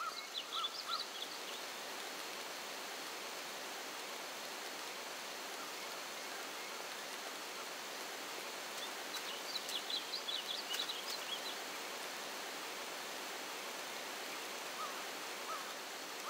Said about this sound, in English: The waterfall must be hiding something.